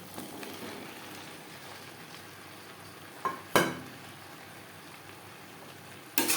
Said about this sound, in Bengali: মশলার সাথে আলু ও এঁচড় বেশ ভালো করে মিক্স করে দেব